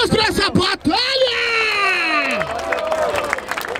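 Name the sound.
crowd applauding and cheering at a rap battle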